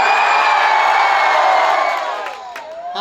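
A crowd at a live stage show cheers and shouts loudly, a thick sustained roar with whoops that tapers off in the final second.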